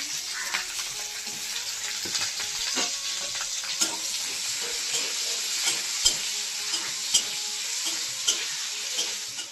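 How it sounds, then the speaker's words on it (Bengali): Capsicum frying lightly in oil in a pan gives a steady, continuous sizzle with occasional stirring clicks and scrapes throughout, close and moderately loud with no talk. "এখন আমি ক্যাপসিকামটা হালকা করে ভেজে নিচ্ছি।"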